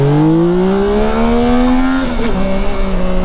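A Yamaha Tracer 9 GT+ motorcycle pulling hard, its engine note climbing smoothly in pitch under acceleration, loud and close, with a brief stumble near the end before the tone settles again.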